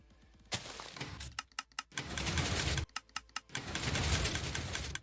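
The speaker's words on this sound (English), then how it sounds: "so that we can see the whole 5 pistons firing" Pistons fire repeatedly in Minecraft beside a TNT dropper and hopper clock tree farm, producing sharp, close clacks in quick series between broad noisy bursts.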